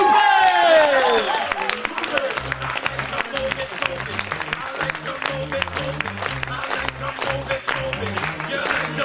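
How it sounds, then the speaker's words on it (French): Crowd applause with cheering greets a performer taking the stage at a slam poetry workshop event. It is loud and sustained, with a sweeping electronic sound at the start and a pulsing low musical beat underneath. "Faites un gros tonnerre d'applaudissements pour l'homme que l'on nomme Laure Madjam"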